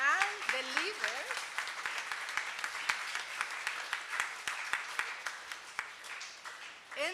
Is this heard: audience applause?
yes